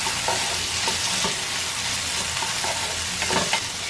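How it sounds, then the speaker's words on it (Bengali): Boiled chana dal frying in a pan, a steady dense sizzle with rhythmic scraping stirs of a spoon against the pan, close and fairly loud. "এর মধ্যে দিয়ে দিচ্ছি বুটের ডাল।"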